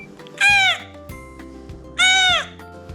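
Two nasal, bleat-like squeals from an elk mouth call imitating a cow elk, each about a third of a second long, sounded close and loud with a pause between them over quiet background noise.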